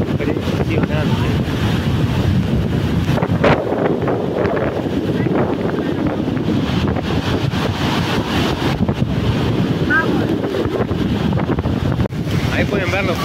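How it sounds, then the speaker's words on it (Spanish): Iguazu Falls on the Brazilian side, heard from close range: a loud, constant roar of pounding water mixed with heavy wind buffeting the microphone, steady throughout with no break. "Ahí pueden ver lo fuerte que pega el agua y el viento, tremendo."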